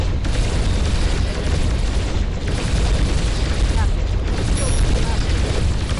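Missile explosions booming in space combat in Starpoint Gemini 2, a loud, dense stretch of rumbling blasts and bursts that runs continuously with little pause.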